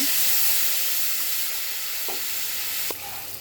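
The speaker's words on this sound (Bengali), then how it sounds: "দিয়ে দেব তেলের মধ্যে একটা চামচ হলুদের গুঁড়া একটা চামচ আদার ধনিয়া গুঁড়া দিয়ে দেব সামান্য জল" Whole cumin, turmeric and coriander powder with a splash of water crackle in hot oil for a vegetarian soybean curry, a loud, steady, close sizzle with a couple of faint clinks.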